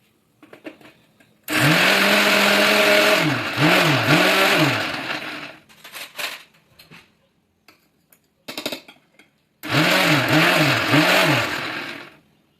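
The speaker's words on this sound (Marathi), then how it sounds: "त्यानंतर याला मिक्सरच्या डब्यामध्ये टाकून ह्याला बारीक असं वाटून घेणार आहे" A kitchen mixer grinder whirs loudly as it grinds washed green chillies to a paste, running in pulsed bursts with short stops and restarts, with the motor pitch dipping as the blades load, no talking.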